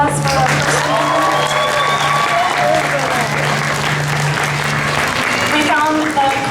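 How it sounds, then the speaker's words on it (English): Costume contest audience at an anime convention applauding in a sustained, dense burst of clapping, with scattered voices and cheers mixed in across the whole stretch. "Can you give a round of applause for our first one?"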